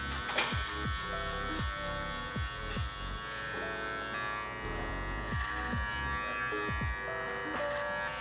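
Electric hair clippers buzz steadily up close while cutting hair during a haircut, their hum shifting slightly in pitch as the blades work through the hair, with no talking.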